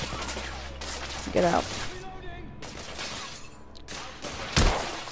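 Gunfire from the video game The Order: 1886, with several sharp shot bursts and a crashing impact breaking through ongoing game noise while someone talks over it.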